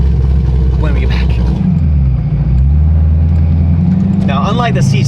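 A fast car's engine rumbles with a deep, loud drone that rises and falls as it revs, steady throughout and heard close up from the cabin.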